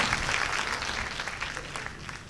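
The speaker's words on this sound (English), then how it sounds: "Please don't clap so much" An audience at a World Hindu Congress event in Chicago applauds, a full, steady patter of many hands clapping that eases slightly toward the end.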